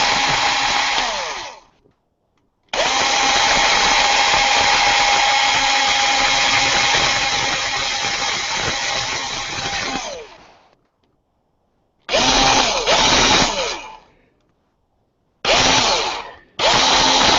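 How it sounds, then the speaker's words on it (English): A power drill whines loudly in long bursts while drilling through a hobby model's leg, stopping and restarting several times with short silent gaps between runs. "This is the most exciting thing ever, drilling through a leg."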